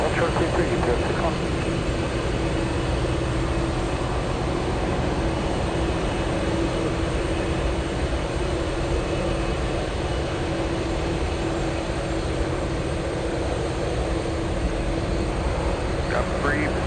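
UPS heavy cargo jet taxiing at Anchorage airport, a continuous loud engine roar and rumble filling the whole stretch at steady level, with no break or change in intensity.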